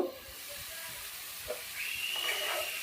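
A coconut and sugar mixture sizzles and hisses in a pan while being stirred, a continuous soft frying noise with small scraping bumps from the spoon.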